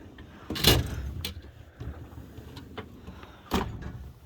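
A metal drawer of a 34-inch Snap-on tool cart slides open with a rolling rattle, followed by soft clinks and a second clunk, close and fairly quiet.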